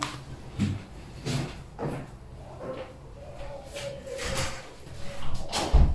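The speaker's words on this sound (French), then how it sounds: "Pardon, je vais fermer la porte." An indoor door is pushed shut with a few soft knocks and a thud at the end, set against a steady low room hum.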